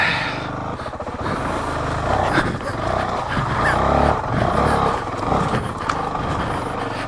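A Honda CRF450RL dirt bike ridden off-road on rough, unmaintained Ohio roads: a loud, continuous engine roar that swells and eases with the throttle, close up with wind noise, and voices faint underneath.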